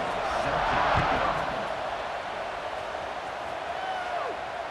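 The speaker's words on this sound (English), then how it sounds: "They're set to kick it off, and this crowd now ready to get behind them." Stadium crowd noise swells at kickoff in a college football video game between FSU and LSU, a dense, moderately loud roar peaking early and then settling into a steady hum.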